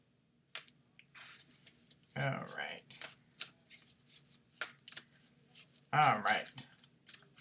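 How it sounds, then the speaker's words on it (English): Two brisk bursts of tarot card shuffling, close and crisp, separated by quieter handling rustles, with a voice speaking briefly. "I am going to go ahead and put the mic down while I shuffle"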